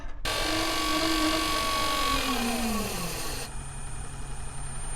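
A Marco water pump runs as household taps are opened, a loud steady motor whine with a tone that slides downward before cutting off abruptly, leaving a quieter background hum.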